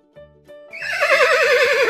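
A horse whinnies loudly, a high quavering neigh that rises and wavers for over a second after a few soft tonal notes.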